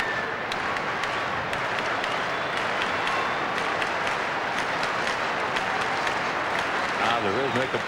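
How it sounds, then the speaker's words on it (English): A huge baseball crowd at an Angels game in Anaheim keeps up steady rhythmic applause, dense and continuous throughout, with a voice rising over it near the end. "The rhythmic applause building here in Anaheim with a 1-1 count on Salmon."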